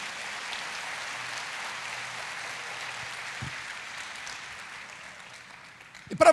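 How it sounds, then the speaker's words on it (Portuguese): Congregation applauding during a church sermon, an even, moderately faint wash of clapping sustained for several seconds, ending in a louder close burst. "Você pode aplaudir ao Senhor por causa disso?"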